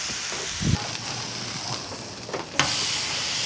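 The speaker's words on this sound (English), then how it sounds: "let's throw this on Blackstone. Let's get a good sear on the outside" Loud, steady sizzling hiss of venison searing on a hot outdoor Blackstone griddle, with a few soft clanks and scrapes of a utensil breaking through.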